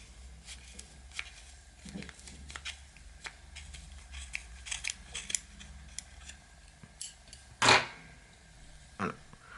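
Scissors snip through yarn during a crochet and macramé basket project, a few soft cuts scattered across the quiet clip, then one sharp, louder snip near the end followed by a fainter one.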